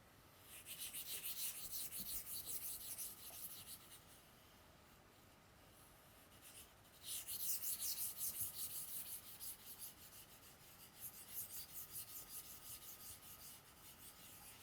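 Repeated rubbing strokes of a cloth or duster wiping writing off a classroom board, soft rasping bursts coming in rhythmic waves with short pauses between, no talking.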